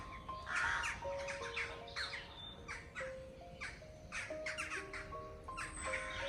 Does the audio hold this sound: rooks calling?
yes